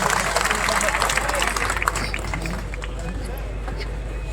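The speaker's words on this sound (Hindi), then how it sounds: "एक बार ताली बजाइए" An audience at the Varanasi Mahamurkh Mela, a public festival event, claps and cheers in a dense, sustained burst of applause mixed with crowd babble, steady and loud before slowly thinning out.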